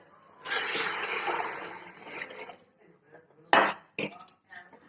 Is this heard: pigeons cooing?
no